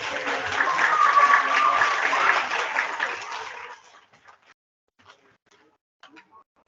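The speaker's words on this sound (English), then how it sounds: "let's give our perfect attendance students a big round of applause" Applause from the audience at a kindergarten awards assembly: loud, steady clapping from a crowd for several seconds, then it tapers off and dies away, leaving a few faint scattered claps.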